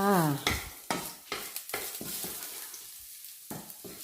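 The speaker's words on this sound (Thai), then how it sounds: "ใส่น้ำมันเล็กน้อยในกระทะค่ะ ใส่กระเทียมลงไปเลยจ้า" Garlic tossed into a little hot oil in a wok, a short hiss at first, then a run of close spatula scrapes and stirs over a soft sizzle.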